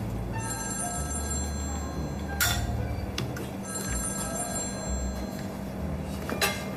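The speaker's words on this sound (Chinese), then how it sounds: "电话。" An indoor telephone rings with two bursts of a trilling electronic ring separated by a pause, heard clearly over faint room ambience during a quiet dinner scene.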